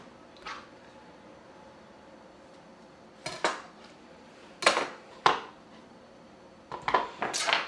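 A sharp kitchen knife slices tough-skinned produce from the inside out on a cutting board, giving a handful of crisp, irregularly spaced knocks and clacks close by, with quiet stretches between them and no talking.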